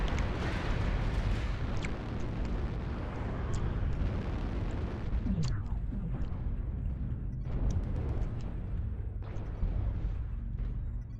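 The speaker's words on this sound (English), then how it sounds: "Warning, incoming missile." Rumbling explosions from incoming missiles in the MechWarrior Online game, a continuous heavy low roar with several sharper bursts and booms spread across the stretch, no talking.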